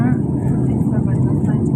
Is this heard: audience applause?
no